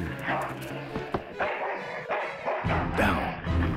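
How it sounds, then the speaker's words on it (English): An ill-tempered mongrel in the video game Full Throttle Remastered barks in short yaps, mixed with game sound effects and a character talking. "That's one ill-tempered mongrel."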